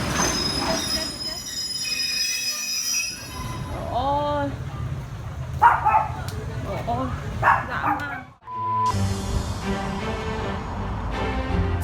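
A train passes on railroad tracks, rumbling and clattering with high wheel squeals, loud and close, broken by a brief cut before the noise resumes, while a dog barks and a voice talks.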